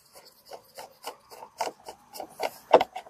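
Screws being driven back into the plastic air filter housing of a 2017 Acura ILX 2.4L, a series of short dry rasping turns repeating about every quarter second, close and quiet with no talk.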